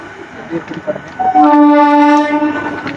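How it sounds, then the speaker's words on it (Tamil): A train horn blares loudly for about a second and a half over rumbling rail noise, with faint voices in the background before it sounds. "ட்ரெயின் போகும்போது உங்களுக்கு கவர் பண்றோம்."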